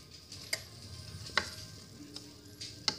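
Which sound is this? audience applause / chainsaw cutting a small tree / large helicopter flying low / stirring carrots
stirring carrots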